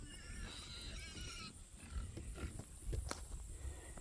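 Pigs on a farm during morning watering, with grunts and squeals at close range over a steady hiss of running water, no talking.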